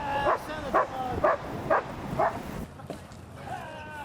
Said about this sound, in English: Suspect, come back! I'll send my dog!